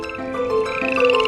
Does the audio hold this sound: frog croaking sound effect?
yes